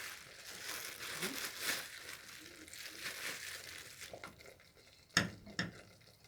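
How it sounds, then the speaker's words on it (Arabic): A plastic bag of raw tahini is emptied out, giving faint, quiet crinkling and rustling throughout and a couple of sharper crackles near the end. "احنا ايه بنفضي كل الكيس"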